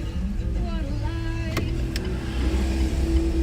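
A car pulls away on a street, its engine hum rising under a steady tonal whine, with a couple of sharp clicks midway and people talking inside.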